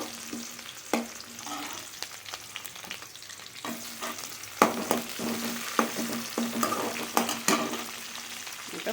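Onions sautéing in a pan for a jackfruit masala curry make a soft, steady sizzle, broken by frequent clinks and scrapes of a stirring spoon, with no one speaking.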